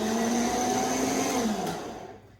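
An electric mixer beats gluten-free vegan cake batter with a loud, steady whirring drone close by that winds down toward the end, and no talking.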